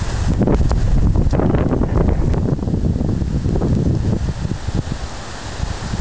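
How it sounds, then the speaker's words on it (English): A big storm gust in Hamilton, Ohio, slams loudly into the microphone, a rough, buffeting roar that peaks early and eases slightly toward the end, with no one speaking. "Another big gust."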